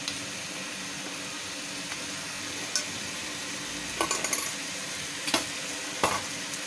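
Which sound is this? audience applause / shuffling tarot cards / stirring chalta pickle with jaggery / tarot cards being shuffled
stirring chalta pickle with jaggery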